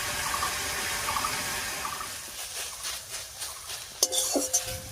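Fresh jute leaves (pat shak) cooking down in a pan as their water dries off, a steady soft sizzle with scraping stirs and a few sharp utensil clinks against the pan near the end, close and moderately loud.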